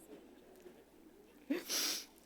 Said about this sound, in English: I have been trying to fight my sniffles all morning